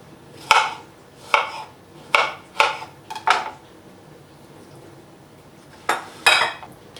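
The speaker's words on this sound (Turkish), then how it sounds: "Çileklerimi şöyle dilimliyorum." A knife taps against a cutting board slicing strawberries in a handful of crisp, uneven cuts, a pause, then two more slices close by.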